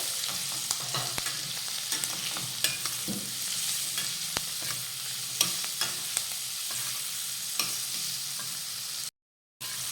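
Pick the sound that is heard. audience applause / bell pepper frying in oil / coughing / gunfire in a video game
bell pepper frying in oil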